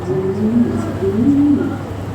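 European toy lahori pigeons cooing close by, a series of soft, low warbling coos rising and falling in a steady rhythm against light background hum.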